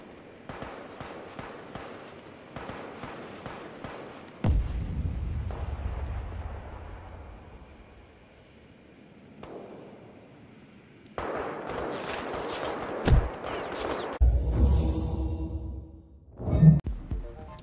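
Video-game combat with an airstrike: rapid gunfire crackles early on, then deep rumbling explosions swell and fade, followed by denser bursts of shots and booms near the end, with no talk.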